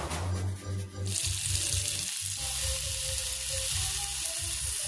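Food fries in a pan with a low rumble at first, then a sudden bright, broad sizzle takes over and stays loud and close, broken by brief stirring thumps.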